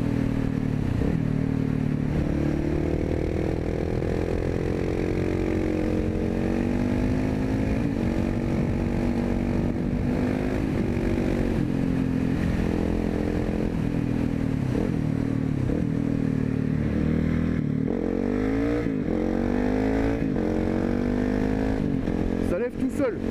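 A KTM 690 SMC single-cylinder motorcycle engine revs loudly and continuously while being ridden, its pitch rising and falling with the throttle, with a person talking over it throughout.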